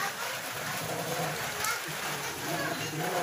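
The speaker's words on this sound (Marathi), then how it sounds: "एवढा जोरात पाऊस आहे तुम्हाला दाखवते पूर्ण गुडघे इतकं कमरे इतकं पाणी" Heavy monsoon rain pours down in a flooded area with knee- to waist-deep water, a steady dense hiss and splashing that runs throughout, close and loud, with a voice talking over it.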